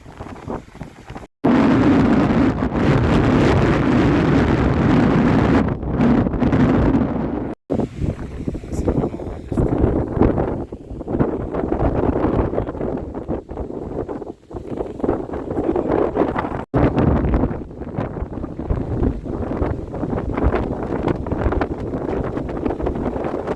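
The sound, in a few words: strong wind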